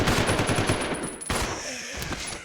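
Rapid automatic gunfire in the Resident Evil 0 HD Remaster video game, a dense stuttering burst of shots for over a second, then a single louder blast and scattered quieter shots trailing off.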